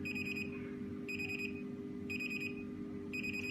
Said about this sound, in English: If work properly, the beams has the beep prompt.